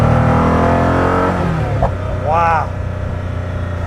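A Koenigsegg Agera RS1 supercar engine revs loud and close, holding a strong roar before easing off, then a quick blip rises again as a voice exclaims over it.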